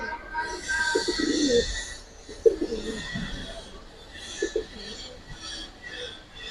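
Giribaz and Afsan Bagha pigeons coo nearby in several soft, throaty bursts spread across a few seconds over a low background hum.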